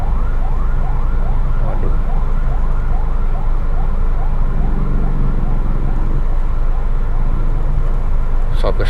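A loud ambulance siren wails up and down repeatedly close by over rush-hour traffic rumble on a Jakarta road, with a brief spoken exclamation near the end.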